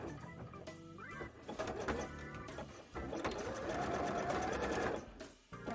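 A sewing machine runs a wide zigzag stitch attaching a strap on a handmade bra, its close, steady mechanical whir holding for several seconds between brief pauses, with faint intermittent chirps in the background.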